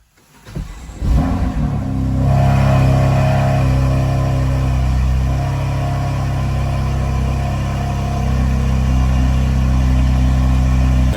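A high-mileage BMW M4 engine cranks and fires for its first start after repair, then settles into a steady, fairly quiet idle with a low rumble that runs on evenly for several seconds.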